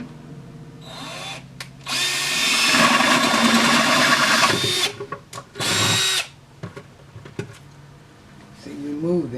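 A power drill bores a hole in plastic, whining in two long loud bursts with shorter blips between and after, close up, with brief voices around the pauses.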